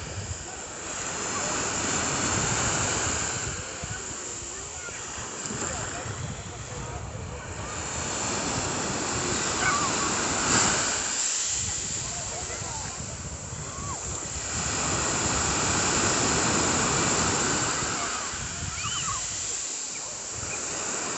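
Mediterranean Sea waves wash in and out in slow swells, a broad steady roar of surf that rises and falls over about twenty seconds, with some voice faintly beneath.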